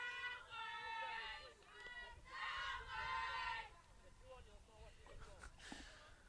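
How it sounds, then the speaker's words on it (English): A high school softball crowd chants a rhythmic cheer urging the ball on, several loud sung bursts from many voices at a moderate distance, with a commentator talking over them. "Creative little cheer they've got there as they are encouraging the ball to go that way"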